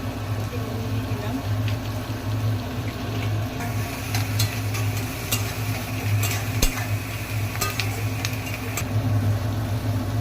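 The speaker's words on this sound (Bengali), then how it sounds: "পেঁয়াজটা ভাজা হচ্ছে, এখনো লাল লাল হয়নি।" Onions fry in a pan with a steady low sizzle while a spoon stirs them in repeated scraping and clinking strokes, close by, with a faint hum underneath.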